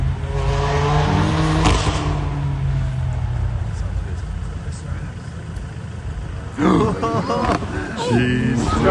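A BMW F82 M4 with headers and a downpipe launches hard on the Curborough sprint course, its engine roaring loud and close with a brief tyre chirp. Its pitch rises through the gears while people talk over it.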